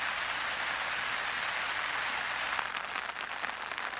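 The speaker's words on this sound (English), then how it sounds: "even though it's still raining." Steady rain pours down in a dense, even hiss during a canoe trip in Wabakimi, close and constant for the whole stretch, with no voices.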